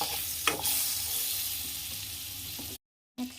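Two butter cubes sizzle and fry in a pan while paneer butter masala is cooked, a steady close hiss broken by a brief silence near the end.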